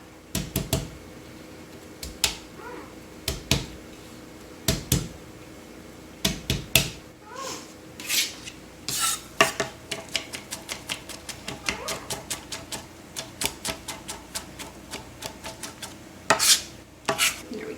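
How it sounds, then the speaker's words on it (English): A knife roughly chops smashed garlic on a board for a tomato sauce, irregular sharp taps in scattered bursts that speed into rapid clusters later, close and fairly crisp over a quiet kitchen background. "We're just going to give them a rough chop."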